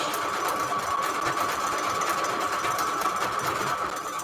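A sewing machine runs steadily at close range on its biggest, widest stitch, with a fast, even mechanical whir and clatter lasting the whole stretch and no voices.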